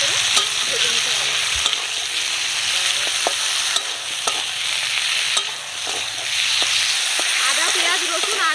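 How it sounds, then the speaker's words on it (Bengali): Onion, ginger, garlic, potato and long tomato slices sizzle steadily in a pan for a tuna kalia, with a continuous crackling fry broken by repeated scraping stirs, close and fairly loud. "সব কিছু দিয়ে এবার ভালো করে ভেজে নিতে হবে।"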